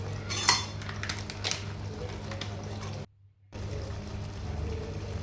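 Masala for matar paneer being stirred and mixed in a pan, metal spoon scraping and clinking against the cookware in short irregular strokes over a steady background hum, with a brief cut to silence midway.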